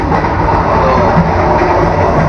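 Steady rolling rumble and rattle inside a new KA Cikuray passenger train carriage running fast on the rails, continuous and loud throughout with no talking.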